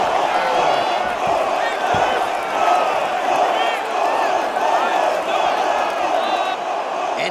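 A capacity arena crowd roars in EA Sports UFC 6 before a featherweight championship fight between Volkanovski and Swanson: a loud, continuous wash of cheering with scattered whoops and shouts throughout.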